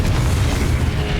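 Confringo blasting spell explosion in the Hogwarts Legacy video game, a dense continuous booming burst with heavy low rumble lasting throughout, loud and close with no talk.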